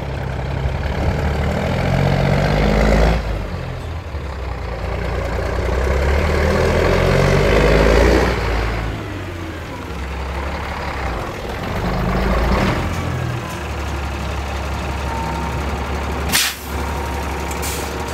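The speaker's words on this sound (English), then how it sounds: "We're gonna pull both trucks up out of the way from the trees" Two old trucks, one a cabover, pulled forward beneath very old oak trees, heavy engines rumbling and idling at close range with a sharp air-brake hiss near the end; no talking.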